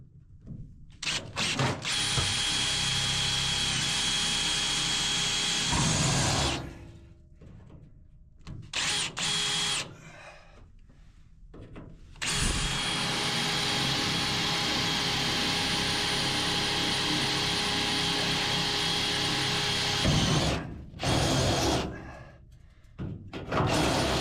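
A cheap step bit (unibit) on a power drill bores through car body metal on a 1970 Nova being fitted with new wheel tubs, giving long steady whining grinds broken by short pauses and a few brief bursts.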